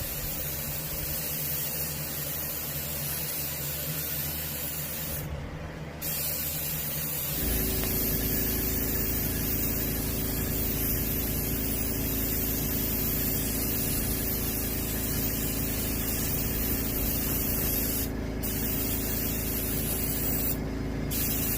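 Base coat sealer sprayed from an airbrush or spray gun onto a striped bass skin mount: a steady, loud hiss that runs without a break and thickens in level partway through.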